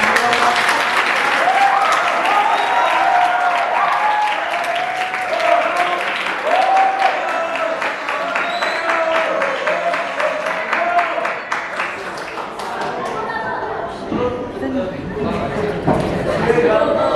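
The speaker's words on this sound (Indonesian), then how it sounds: "Oke, kasih tepuk tangan." Sustained applause from an audience at a school debate, loud and close, with voices and chatter mixed in over it, the clapping thinning toward the end before a final flurry.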